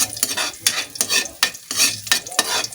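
Meat browns for adobo as a utensil scrapes and stirs it in a sizzling pan, in rhythmic bursts about every half second, close and fairly loud over a steady frying hiss.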